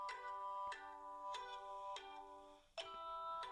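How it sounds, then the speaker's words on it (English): An incoming call rings on a phone, five evenly spaced bright electronic chime tones repeating about every two-thirds of a second, clear and alone in a quiet room. "I'm getting a phone call."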